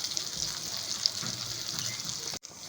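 Fish coated in rava fries in oil in a pan, giving a constant close, crackling sizzle that cuts out briefly near the end. No one speaks.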